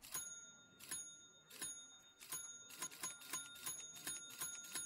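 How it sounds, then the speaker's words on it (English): In the video game Hearthstone, a small bell is struck over and over, giving a quiet but steady stream of bright metallic dings that speed into rapid repeated taps toward the end, with no talk. "Really didn't do a good job with this bell sound."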